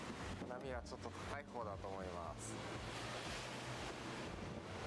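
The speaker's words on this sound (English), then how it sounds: "I think the waves are high for the inland sea." Waves on the Inland Sea wash steadily, heard from the deck of a large overnight ferry in Japan, a continuous loud rushing swell mixed with wind buffeting the microphone, while a person talks briefly in the first half.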